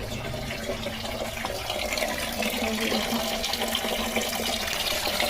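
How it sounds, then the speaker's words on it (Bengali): Water pours steadily from a tap near a back staircase at home, a continuous close hiss and splash that runs unbroken without any voices. "না জল ভালোই পড়ছে"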